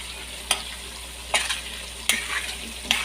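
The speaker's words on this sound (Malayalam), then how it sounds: "ഇത് നന്നായിട്ട് വെന്ത് കിട്ടണം പച്ചമുളക്." Green chillies frying in oil for a chilli pickle give a soft, steady sizzle, close by, broken by four sharp stirring clinks and scrapes spaced about a second apart.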